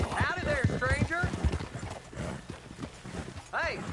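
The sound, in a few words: horse hooves clip-clopping in video game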